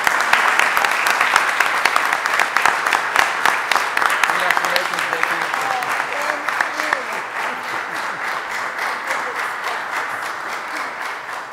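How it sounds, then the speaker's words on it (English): A sustained round of applause from the audience at a city council meeting, dense steady clapping from many hands that continues for about twelve seconds and tapers slightly toward the end. "So let's give Becky one more round of applause."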